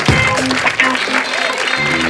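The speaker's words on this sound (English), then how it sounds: "The round of applause to Mr. Poon Chi Ho!" Loud applause from an audience welcoming Mr. Poon Chi Ho back on stage at a MACC Internal Affairs event in Penang, brief and dense, with voices and a pitched tone mixed through the clapping.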